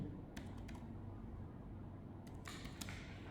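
Computer keyboard keys are tapped in a few quick, scattered clusters, close and fairly quiet over a faint room hum.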